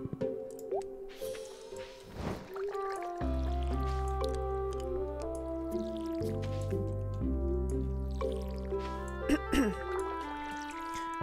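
Watering sounds from the video game Stardew Valley Expanded: several soft, squishy drips and splashes rise over steady game background music, with a person talking at times.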